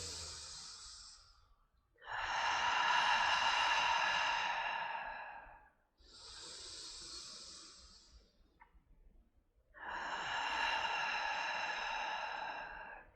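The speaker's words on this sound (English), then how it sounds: "I'm going to take 3 deep inhale and exhales here" Slow, deep breaths during a Pilates neck stretch, with long audible inhales and exhales alternating in a steady rhythm, close and soft with brief quiet pauses between them.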